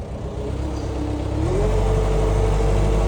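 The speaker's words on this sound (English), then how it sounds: "let's get the skid steer running." Skid steer engine turning over and catching, then settling into a loud, steady low running rumble close by, with no talking.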